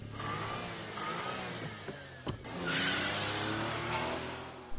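A car engine revs hard in an Initial D anime street race, a sustained roaring drone that swells and surges, with a sharp transient midway and tire squeal, no voices.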